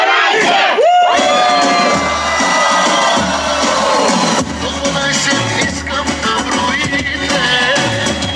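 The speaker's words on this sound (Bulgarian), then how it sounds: "Силни аплодисменти, да ви чуя" A prom crowd applauds and cheers loudly, a packed roar of clapping, shouts and whoops that swells after a short opening sound and carries on under music.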